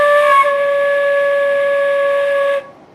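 A flute played open with only the pinky key pressed, sounding one clear, steady sustained note for about two and a half seconds before stopping abruptly.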